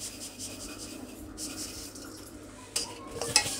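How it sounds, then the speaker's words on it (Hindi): Spoon stirring a hot jaggery mixture with coconut and sesame for burfi in a pan, a soft, faint continuous scraping with a few louder clinks near the end. "क्योंकि अभी गुड़ गर्म है, तो फटाफट से मिल जाएगा इस तरीके से।"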